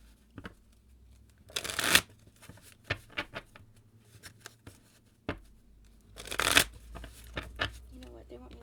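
Tarot cards are shuffled during a reading, with two bursts of riffling card shuffles and scattered taps and flicks of cards between them, close up, and a voice talks softly at the start and in between.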